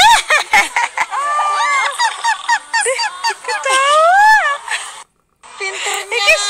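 A pet cockatoo squawks and chatters in a rapid run of harsh, rising and falling calls, loud and close, with a brief pause near the end.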